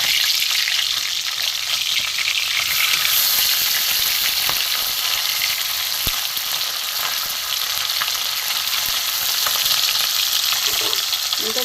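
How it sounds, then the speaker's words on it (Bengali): Pieces of bata fish, just turned over, fry in hot oil with a loud, steady, dense sizzle and crackle that continues unbroken and close for the whole stretch. "উল্টে দিয়েছি মাছগুলো, দেখতে থাকুন।"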